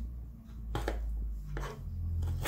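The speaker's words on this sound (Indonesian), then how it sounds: "Kalau ini nanti serainya kita geprek aja, nggak usah diiris-iris." Lemongrass stalks smashed flat for cooking, three dull thumps spaced across a quiet kitchen, close and moderately loud.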